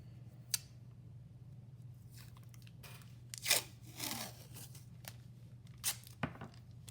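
Washi tape being torn and pressed down to hold a mask on a craft background: a few short, quiet rips and crinkles scattered over a faint steady hum, with no voices.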